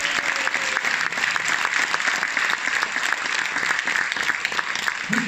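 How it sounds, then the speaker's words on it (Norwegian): Applause from the audience at a Christmas rock concert held by a music association in Hammerfest, a steady dense crowd clapping that carries through the whole stretch with no talk on top. "Gi dem en skikkelig god applaus."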